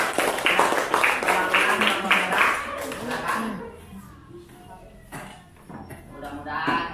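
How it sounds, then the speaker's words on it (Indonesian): Classroom applause for the red group of pupils, a burst of clapping mixed with children's chatter for about three seconds, then quieter talk and scattered taps. "Tepuk tangan untuk kelompok merah."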